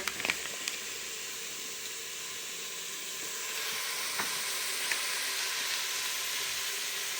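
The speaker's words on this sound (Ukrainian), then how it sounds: "Зупа ще не зварилася, зупа кипить." Steady sizzling, bubbling hiss of orzo soup boiling in a pot, with a few faint clicks and a slight rise in intensity midway.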